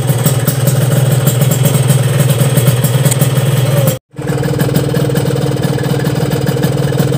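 An old two-stroke motorcycle engine running on AGIP 2T Plus oil idles loudly and close by with a rapid, rattling buzz. A brief cut near the middle leaves a short gap before the same steady running resumes.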